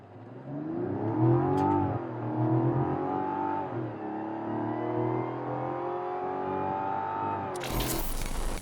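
A Mazda CX-60 accelerates hard from a standstill during a timed acceleration run, its engine note climbing steadily through several gears with brief dips at the shifts, loud and close, ending in a burst of wind noise.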